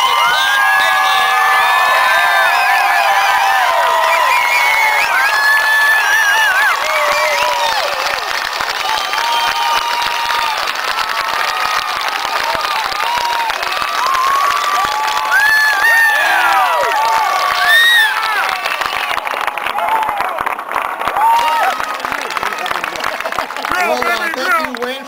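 A large rally crowd in Hermantown, Minnesota roars with sustained cheering, whoops and applause welcoming Todd Palin, loud and continuous throughout, with shouted voices mixed in.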